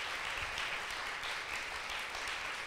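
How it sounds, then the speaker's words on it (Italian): Audience applause at a live talk, a faint, steady wash of many hands clapping heard from a distance with no break. "facciamole un applauso"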